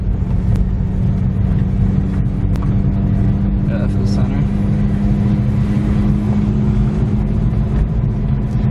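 A BMW E36 car driving on a rough road, with a steady loud engine drone and road rumble throughout, small rattles and knocks mixed in, heard from inside the cabin.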